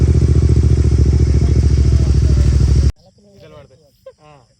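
A new motorcycle's engine runs loud and close for about three seconds with a steady, pulsing throb, then cuts off abruptly and voices talk quietly.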